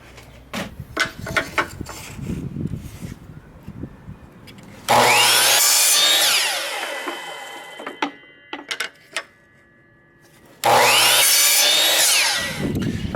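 Power saw cutting wood for a tiny house build, two loud sustained bursts of whining saw noise separated by quieter stretches of handling, tapping and knocking.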